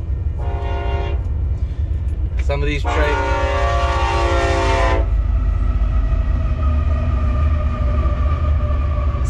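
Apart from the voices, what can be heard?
passing freight train with train horn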